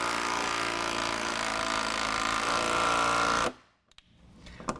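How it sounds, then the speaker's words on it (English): Impact driver tightening a nutsert in a Jeep Wrangler JL rear fender: a loud, steady buzzing hammer-whir runs for about three and a half seconds, then cuts off abruptly, followed by a few faint clicks. "I'm going to use an impact driver to tighten it down"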